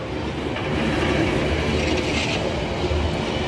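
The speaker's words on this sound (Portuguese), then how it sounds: "Tá vindo aí o bloco C, a locomotiva tá de frente, também tá no modo de tração distribuída." A freight train led by a front locomotive and running in distributed power mode approaches at Salitre de Minas, a loud, steady rumble of wheels and rail noise with faint squeal and clatter, no voices.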